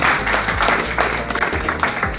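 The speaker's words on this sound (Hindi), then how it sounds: "जोरदार तालियां।" Loud applause from a crowd at a Yamaha motorcycle launch event in Ratlam, a dense burst of clapping lasting a couple of seconds, close and steady.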